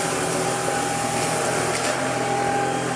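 A Karcher cordless vacuum cleaner with a powered turbohead whirs steadily close by, a constant high airy hum with a faint tonal whine.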